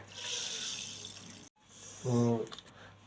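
Water poured into a pan to start sugar syrup for besan ladoo in a home kitchen, a brief bright pouring and filling sound near the middle, with steady room noise before it and a short gap of silence.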